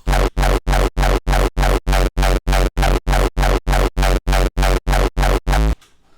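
A long run of rapid, evenly spaced frenchcore kicks made in Serum with hyper dimension pounds loudly, ending with a quick stuttering roll before a brief fading tail.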